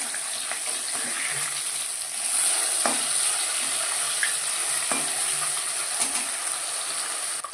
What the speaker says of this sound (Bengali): মাছটা একটি ভাজা হয়ে গেছে উল্টে দেবো